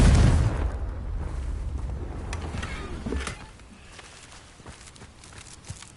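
A Confringo blasting curse erupts in Hogwarts Legacy, a loud deep boom at the start that rumbles and fades over several seconds into quieter ambience with faint scattered clicks.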